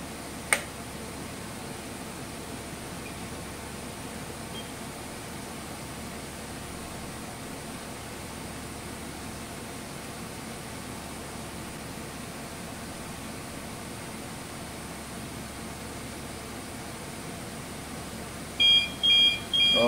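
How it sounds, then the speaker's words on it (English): Off-course alarm on a ship's bridge steering console sounds as a few short electronic beeps near the end, after a long stretch of steady equipment hum. "sometimes that this lever put to auto, we will generate an of course alarm."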